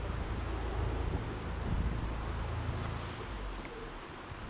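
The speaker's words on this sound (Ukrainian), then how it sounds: "Вітер північно-західний, так визначаю" Steady north-westerly wind rushes and buffets the microphone, a continuous broad roar with no talking.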